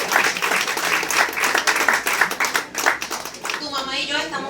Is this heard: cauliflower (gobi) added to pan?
no